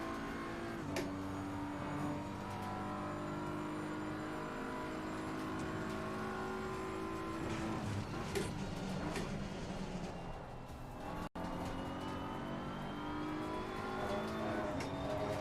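A Porsche engine races in a driving game, sustained revving with rising and falling pitch as gears shift, loud and steady, with a brief dropout near the end.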